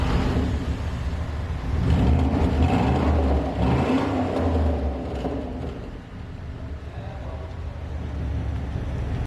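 A 2009 BMW X5 xDrive48i engine runs with its exhaust cut-off switched open, a deep, steady rumble that swells briefly then settles to a lower idle-like drone.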